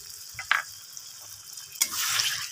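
A little water poured into spiced potatoes in a pan for Bengali-style alur kosa, a short faint splash and then a rising hiss of sizzling, close and quiet with no voices.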